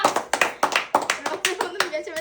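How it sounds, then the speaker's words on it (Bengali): A family claps loudly in quick, uneven bursts during a watermelon eating game, with sharp, close hand slaps overlapping a voice and other chatter. "রোহিণীর জন্য একটা জোরে হাততালি দাও সবাই"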